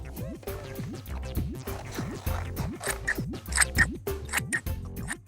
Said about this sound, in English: we can cut these shapes out, but be careful because scissors are sharp